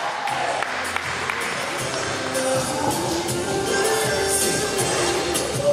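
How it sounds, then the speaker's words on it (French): Audience applause at a gala supporting Haitians in Santo Domingo, a dense wash of clapping and crowd noise that swells toward the end, sustained and fairly loud across the room. "applaudissez s'il vous plaît"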